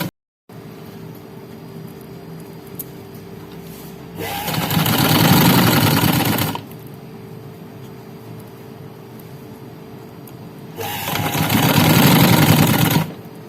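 A sewing machine stitches the edge seam of a loop-style neckline in two close, loud bursts of rapid whirring, each lasting a couple of seconds and separated by a quiet pause.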